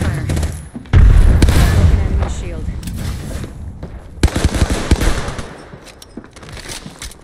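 A frag grenade detonates in the battle royale game Apex Legends, a heavy boom followed by rumbling blasts and bursts of gunfire, with a second cluster of sharp reports later, all fairly loud.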